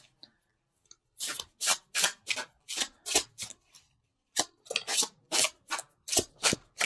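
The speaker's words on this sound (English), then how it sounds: "these cards are sticking" Sticky tarot cards being shuffled in a run of crisp riffling bursts, about a dozen quick flutters with a short pause midway, close and fairly loud with no talk.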